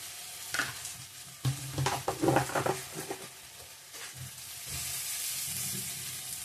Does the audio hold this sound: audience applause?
no